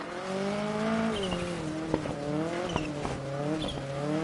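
A rally car in WRC10 slides under handbrake on a gravel stage, engine droning steadily with tire scrub and skidding running through, loud and close, no voices.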